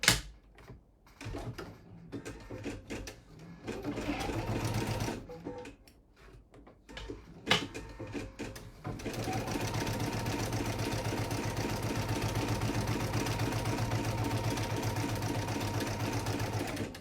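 An embroidery machine stitches an in-the-hoop wrapper pouch with a fast, steady mechanical chatter, broken by stops and clunks early on, then running continuously and close.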